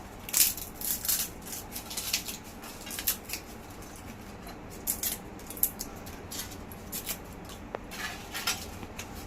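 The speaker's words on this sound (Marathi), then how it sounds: "तर आपण ही तमालपत्राची जी आपण सात पानं घेतली आहेत ती पण मी याच्यात मोडून टाकते" Dry bay leaves being broken and crushed by hand for a biryani spice mix: a run of crisp, crackly snaps and rustles, close and fairly quiet, clustered in bursts with short pauses.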